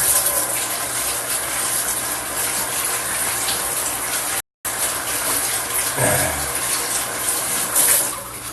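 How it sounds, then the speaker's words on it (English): Hands washed under a running kitchen tap while cooking chicken, a steady loud rush of water with a brief cut partway through and some splashing changes near the end. "Wash my hands again."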